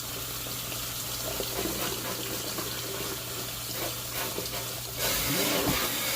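Hot tap water runs steadily into a sink while brushes are rinsed, a continuous close hiss and splash that swells louder near the end, with no talking.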